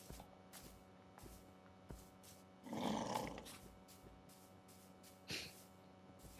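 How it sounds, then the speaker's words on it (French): An angry wolf in the video game Minecraft growls in a brief, rough burst midway, with a shorter snarl later, over faint background noise and scattered clicks. "Ah, il a l'air d'être très en colère, le loup,"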